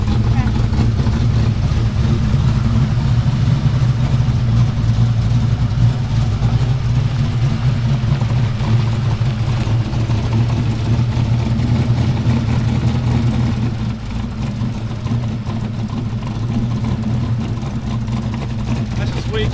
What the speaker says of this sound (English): Kind of clean it out and let it sit out there in the idle.